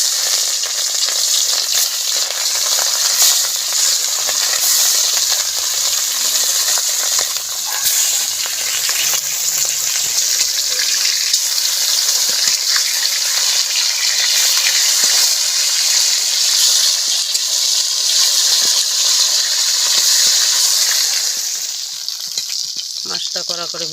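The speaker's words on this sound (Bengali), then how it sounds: "মাছ ভাজা দেবো এক এক করে।" Salted, turmeric-rubbed fish frying in oil in a home kitchen, a loud, continuous sizzle with crackling spatter that holds steady and close for the whole stretch, easing slightly near the end.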